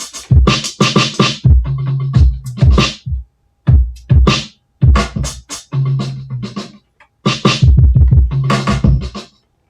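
A drum kit is loaded fresh into an Isla Instruments S2400 sampler, with levels left unadjusted. It plays a punchy, gritty beat of close, loud kicks, snares and hats in a choppy rhythm, with short gaps between phrases and no voices.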